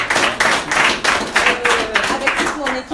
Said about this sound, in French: On peut applaudir Brigitte Saint-Jean qui a organisé la soirée de ce soir